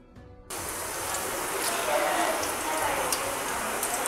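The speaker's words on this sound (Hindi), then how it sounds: "सारे विंग्स इसी तरह फ्राई हो जाएंगे" Marinated chicken wings fry in hot oil with a loud, steady, crackling sizzle that starts abruptly after a brief quiet moment and continues evenly to the end.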